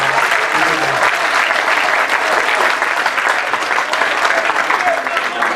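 Dense, steady applause fills a graduation ceremony hall, a large audience clapping continuously and loudly throughout, with a voice faintly present beneath the noise.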